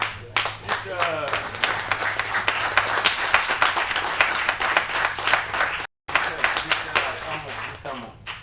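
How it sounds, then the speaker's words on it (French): An audience applauds loudly at a community event in Kerkennah, Tunisia, with sustained dense clapping and crowd noise, a brief cut near the end, then more clapping. "j'aimerais bien qu'on les applaudisse très fort"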